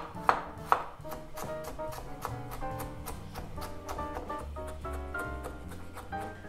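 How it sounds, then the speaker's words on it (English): A knife chops steadily on a cutting board, mincing ginger for spicy pork bulgogi, with two sharp louder strikes at the start and then a fast, even run of close chops under quiet background music. "Let's mince the ginger."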